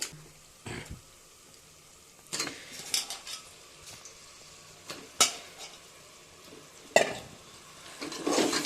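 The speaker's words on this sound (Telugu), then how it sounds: "బాగా మిక్స్ చేసుకుని ఆనియన్స్ టమోటా చికెన్ అంతా కలిసేటట్టు బాగా కలుపుకునేసాము" Country chicken being stir-fried with onions and tomatoes, with a spoon scraping and clattering against the pan in scattered bursts over a faint, steady sizzle and no talking.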